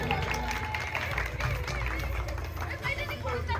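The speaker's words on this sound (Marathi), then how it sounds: "क्लॅपिंग करायचं सर्वांनी. टाळ्या वाजवायचे." Audience at a games event clapping for a prize winner being called up to receive a Paithani saree: continuous dense applause and crowd chatter filling the room, with voices mixed in throughout.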